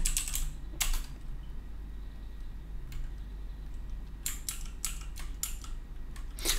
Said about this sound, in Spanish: así vas viendo las teclas que pulso cuando pulso control B